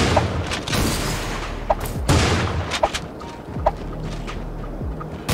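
Shotgun double pump shots in the video game Creative Destruction: several sharp booming blasts fired in quick pairs over a constant low game rumble, loud and close, with no talk.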